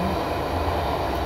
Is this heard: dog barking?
no